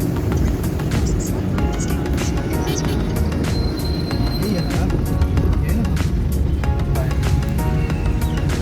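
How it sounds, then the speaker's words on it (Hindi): Busy night traffic in Karachi city fills the scene with a dense, continuous rumble of engines and passing vehicles, with occasional horns or clatter, while a person talks over it. "यहाँ ट्रैफिक का हर वक्त बहुत शोर होता है।"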